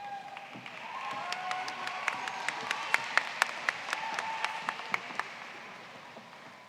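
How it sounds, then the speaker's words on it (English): Audience applause at a high school graduation ceremony after an award, a steady wash of many hands clapping with scattered louder individual claps, moderately distant in a large hall. "Please give her another round of applause."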